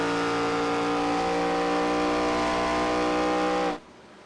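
An ARCA race car engine in an esports racing game at Watkins Glen International drones loud and close at high, steady revs, then cuts off abruptly when the driver lifts off the throttle.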